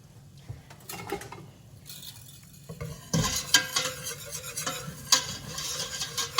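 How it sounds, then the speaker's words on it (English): A broccoli cheddar soup base of flour stirred together in a pot, heard as a quiet background sizzle, then brisk whisking and spoon scrapes that grow louder and more rapid, with light clinks against the pot and no voices. "stir it together. I'm gonna grab a whisk"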